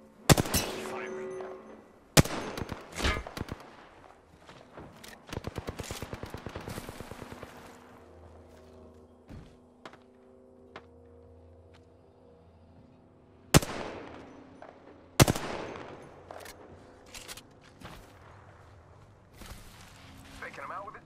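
Video game gunfire rings out in sharp, loud bursts, with single cracks and rapid machine-gun volleys separated by quieter stretches and fading tails. Voices are heard in between.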